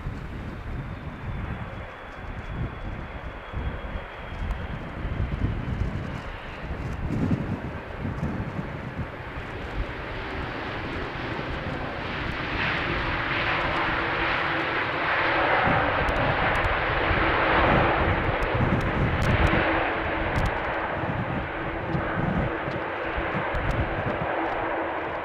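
An aircraft lands on runway 27 at Amsterdam Schiphol in windy weather, its engine roar building and whooshing past amid gusty wind noise for about twenty-five seconds.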